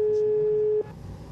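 A steady telephone call tone sounds on an unanswered mobile phone call, holding for most of the moment before cutting off into faint background noise.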